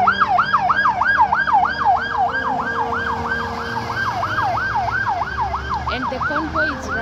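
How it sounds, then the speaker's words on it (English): Military police car siren wailing in a steady, rapid up-and-down cycle, loud and close, over the rumble of road traffic as a funeral convoy passes. "This is a military police car."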